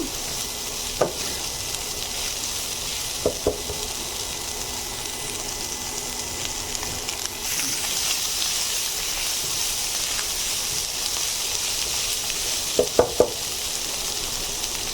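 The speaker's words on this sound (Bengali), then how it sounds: "আর আছে 1/2 কাপ মতো বরবটি কুচি। এগুলো আমি কিছুক্ষণ ভেজে নেব, 1 মিনিট মতো।" Chopped yardlong beans frying in a pan with carrot, a steady soft sizzle and hiss running throughout with a few brief stirring clicks, no talking.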